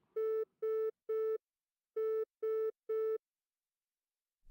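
Telephone line tone after a dropped call, six identical loud beeps in two groups of three, evenly spaced with a longer pause between the groups, alone with no talk.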